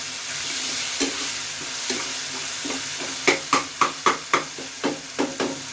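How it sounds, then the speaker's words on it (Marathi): Tomatoes with salt sautéing in a pan for a dried prawn and onion dish, a low steady sizzle broken by a run of sharp rhythmic spatula scrapes and knocks against the pan in the latter half. "टोमॅटोवरती आपण इथे मीठ घालून घेऊया आणि टोमॅटो थोडासा परतून घेऊया आपण।"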